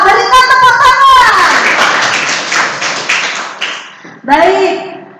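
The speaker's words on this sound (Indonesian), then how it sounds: "Berikan tepuk tangan." Children in a classroom break into applause, a dense burst of clapping that swells after a teacher's voice and fades out over a few seconds before she speaks again.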